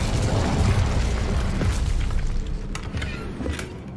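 Incendio fire spell from the game Hogwarts Legacy: a loud, booming whoosh of flame bursting at once, then a rumbling roar that slowly fades with a few crackling pops near the end.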